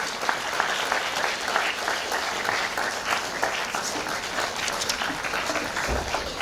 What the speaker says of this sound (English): let's welcome her with a big, big round of applause, please